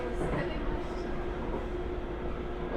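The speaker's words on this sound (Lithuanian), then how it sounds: "Važiavame su metro" A London metro train running above ground, its steady low rumble and rail noise continuous and fairly loud throughout, with faint voices underneath.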